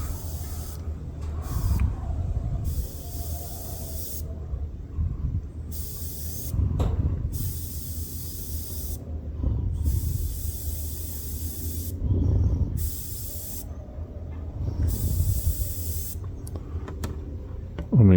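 A Harder & Steenbeck Infinity airbrush spraying on a compressor set to about 10 psi, giving a steady close airy hiss in repeated bursts of a few seconds each, with short quiet gaps between bursts.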